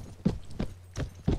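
Horses gallop in the medieval combat game Mount & Blade: Warband, with four quick, close hoofbeats thudding in an even rhythm.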